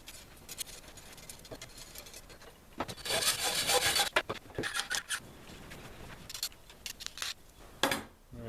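Threaded rod being cut off below a nut, a series of close rasping, grinding strokes that come in bursts, loudest in a sustained stretch midway, with short pauses between.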